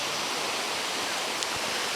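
The Gunung Pulai waterfall in Johor gives off a constant broadband rush of falling water, steady and fairly close, with a faint knock near the end.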